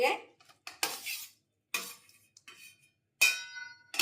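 A ladle scrapes and clinks against a bowl while mashed eggplant is mixed, giving short separate knocks and scrapes with quiet gaps between them.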